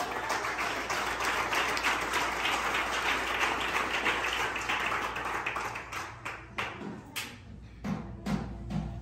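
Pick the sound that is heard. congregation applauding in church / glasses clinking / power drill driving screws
congregation applauding in church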